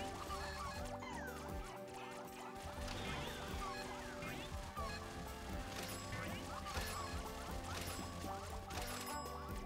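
Cartoonish chickens cluck and squawk in the video game Fat Chicken, a dense flurry of fowl calls mixed into busy, continuous game music and effects, with no talking.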